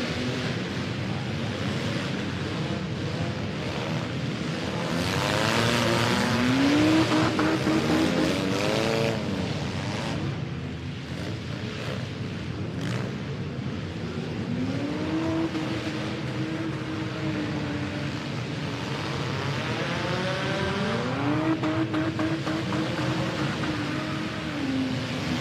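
Race cars roaring around a dirt track at the Hot Springs Havoc 2021 event, a continuous, somewhat distant engine drone with pitch rising and falling as the cars accelerate and slow, heard alone without talk.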